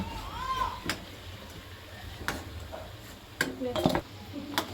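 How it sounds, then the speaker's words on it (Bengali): Singaras lifted out of a pan after deep-frying, with a few sharp metal scrapes and clinks of a slotted spoon against the pan, sporadic and fairly close over a quiet background. "আমাদের সিঙ্গারাগুলো সব ভাজা হয়ে গেছে এবারে তুলে নেব"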